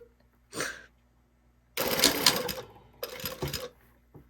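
A sewing machine runs in short bursts while stitching a zipper into a sleeve, with three separate runs of quick mechanical whirring separated by near silence.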